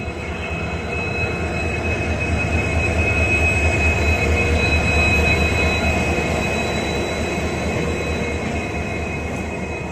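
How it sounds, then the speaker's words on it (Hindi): An Indian Railways WDP 4D diesel locomotive hauls a passenger train, producing a loud, steady rumble with rhythmic wheel clatter and a thin high-pitched whine throughout. "ये मेरा फेवरेट WDP 4D, इसकी आवाज़ सुनते ही दिल खुश हो जाता है।"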